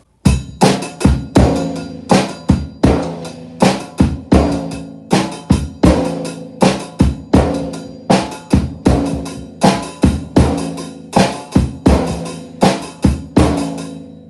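A steady drum pattern of sharp, ringing hits, evenly spaced and repeating throughout, alternating between a rack tom and a snare.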